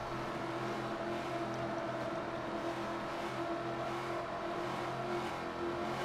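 Stock race cars roar back up to speed on an oval at a green-flag restart, a dense, steady engine drone filling the whole stretch with no voices over it.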